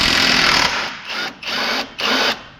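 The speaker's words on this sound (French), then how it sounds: "Voilà, donc vous voyez, la clé à choc" A DONG CHENG three-speed impact wrench set to medium speed, used on a car while changing a suspension wishbone, hammers in four loud bursts with short pauses between them.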